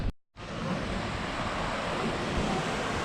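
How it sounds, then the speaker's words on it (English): Waterfalls and rushing water near the fairy pools make a loud, steady, close roar that starts after a brief dropout at the very beginning. "there's waterfalls everywhere"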